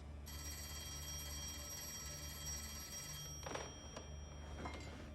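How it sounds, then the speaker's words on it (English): An old-fashioned telephone bell rings continuously in a quiet room. The ringing is faint and steady, with a few soft knocks and movements near the end. "You should answer the phone, Mr. Shelby."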